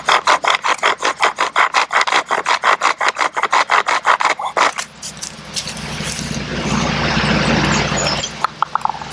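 A bow drill spins in a wooden notch with a rhythmic back-and-forth rasping for several seconds, then gives way to a rougher, steadier grinding rub close to the mic.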